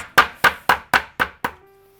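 Six sharp, evenly spaced thwacks on a cutting board, each smashing lemongrass stalks with a dull wooden knock, close and fairly loud.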